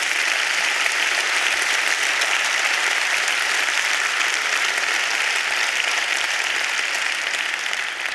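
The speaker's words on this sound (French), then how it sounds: "Je crois qu'ils méritent un applaudissement de notre part." A large audience applauding an organising committee at a Lausanne event, loud, dense and sustained clapping that stays even throughout and eases off slightly at the end.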